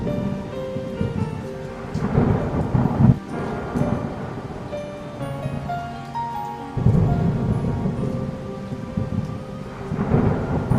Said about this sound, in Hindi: बारिश बहुत तेज है, मुझे नहीं लगता ये छत अब ज्यादा देर तक टिक पाएगी